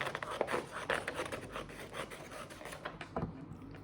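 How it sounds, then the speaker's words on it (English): Scissors cutting a thin strip of material for a costume, a steady series of soft scraping snips and rubbing strokes, close and fairly quiet, repeating in an uneven rhythm. "So cut another strip"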